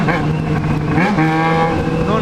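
Motorcycle engine revving hard after slipping into neutral in a city centre, a loud, close, rising and falling roar lasting a couple of seconds, with some voice mixed in underneath.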